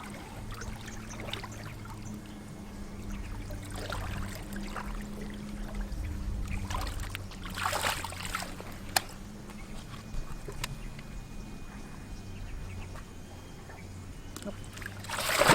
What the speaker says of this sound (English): He swirls the fish around to tire it out before he takes a firm grip.